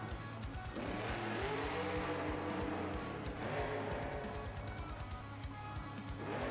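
Iron Cross, a custom semi truck rigged as a monster truck, roars loud and close at a monster truck freestyle event, its engine rumbling steadily with revving surges and crowd noise throughout.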